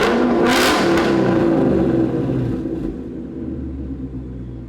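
A 2018-2023 Mustang GT with a Corsa 3-inch cat-back exhaust in sport mode revs loudly indoors with a deep, rumbling exhaust, then settles back into a lower, throaty idle.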